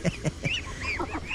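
Ducks on a Philippine backyard farm, raised alongside pigs and chickens, give a quick series of nasal honking quacks, several overlapping calls close by.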